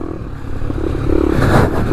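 Motorcycle engine revving and accelerating on a road ride, a loud close roar that climbs in pitch and intensity over about two seconds, with wind rush.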